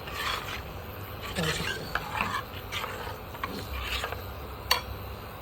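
A spoon scrapes and stirs steadily through thick buttermilk kadhi in a pot, soft rubbing strokes repeating under a quiet background hiss.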